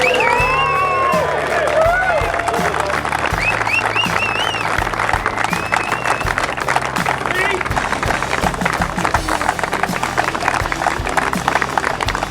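A crowd at a military motorcycle event cheers and claps continuously, whoops and shouts rising over dense applause, with voices talking and a low engine-like hum running underneath.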